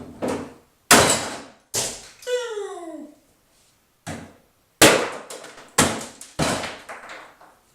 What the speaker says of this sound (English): Let's try it again with the hammer.